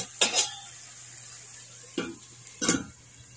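A lid is set on a cooking pan while eggs and vegetables are being cooked with soy sauce and oyster sauce, producing two or three sharp metallic clanks spaced apart against quiet kitchen background.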